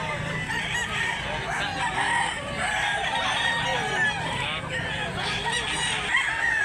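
Rooster of a prized gamecock breed crowing repeatedly at a poultry sale in Mantalungon, Cebu, its calls layered over a dense, steady din of other birds and farm noise, loud and close throughout.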